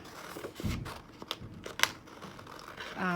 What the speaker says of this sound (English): going to go ahead and cut the petal out